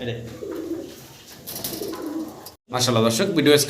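White Noton pigeons coo in low, repeated throaty bursts up close, with a brief drop in sound before a louder round, and a voice mixed in.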